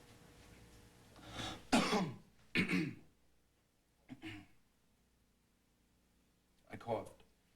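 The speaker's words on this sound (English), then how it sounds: "I coughed." A person coughs and clears their throat indoors: a few rough bursts spaced a second or so apart, then a last cough after a quiet pause, moderately close.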